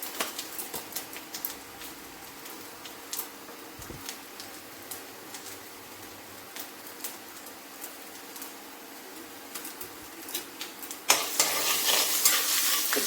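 Dried red chillies, panch phoron and chopped ginger sizzle in hot oil in a kadai, with a steady crackle and scattered clinks of stirring that grow louder and busier toward the end.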